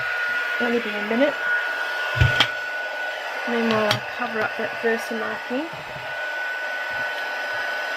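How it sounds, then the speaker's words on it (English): A heat gun for embossing on a stamped card blows with a steady, loud, close whoosh the whole time, while someone talks over it. "Okay, and I'll heat up the gun."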